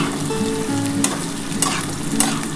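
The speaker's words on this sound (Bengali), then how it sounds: "এর মধ্যে আমি একটু সামান্য নুন আর একটু হলুদ দিয়ে আমি একটু আলুগুলো পেঁয়াজের সাথে ভাজবো।" Potato pieces frying with onions, salt and turmeric for a katla fish-head curry, a loud continuous close sizzle with a few scraping stirs of the spoon against the pan, no voices.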